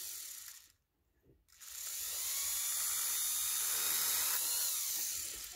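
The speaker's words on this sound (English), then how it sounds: "you put it in there, and it grabs the wire" A wire stripping machine, set to low speed, grips and strips a wire. A brief pause gives way to a continuous high mechanical whine and grinding drone, close and steady.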